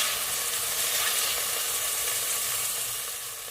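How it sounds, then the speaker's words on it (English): Chunks of beef for beef bourguignon sear in a hot pan, giving a loud, dense, continuous sizzle that eases off slightly toward the end. "then we'll put some more beef into the pan"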